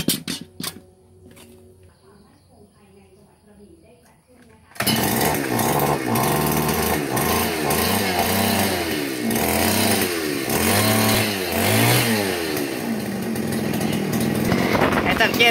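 A lawn mower engine is test-started after its blade nut has been removed: a few quiet seconds of clicks, then the engine abruptly roars to life and runs loud and steady close by with a rhythmic throbbing.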